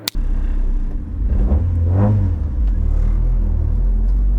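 A Nissan Micra K11 on the Nürburgring, its small engine rumbling and revving up in a rising surge from inside the car, loud and close after a sharp click at the start.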